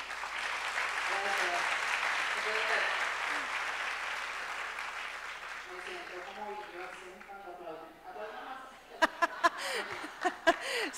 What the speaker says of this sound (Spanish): Así que otro aplauso para Amalia.